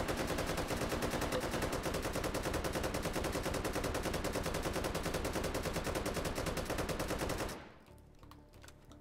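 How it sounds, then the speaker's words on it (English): AK rifle in the VR shooter H3VR firing special white-tip rounds in one long continuous burst of rapid, loud shots that stops abruptly, leaving a few faint mechanical clicks. "Dense as black holes, create sonic booms when you fire them."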